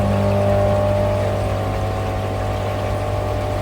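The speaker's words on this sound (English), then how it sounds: "And now I shall switch the Blagdon pump on." A Blagdon air pump for a garden pond runs with a loud, steady mechanical hum and buzzing drone, unbroken and close by, with no talking.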